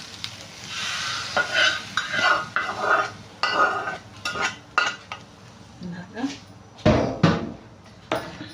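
Coconut chutney added to a hot pan and stirred, with crackling sizzle, repeated spoon scrapes and clanks against cookware, and a voice speaking in between.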